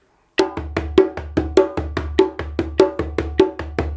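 Hand drum pattern of one open tone followed by two bass notes, repeated in an even, steady rhythm of crisp, close strikes played alone.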